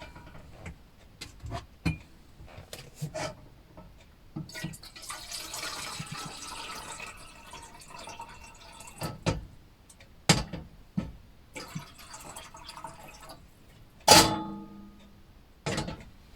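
Water poured from a kettle into a jar to brew yerba mate, with scattered pouring bursts and clinks, close and fairly quiet, broken by short knocks and pauses.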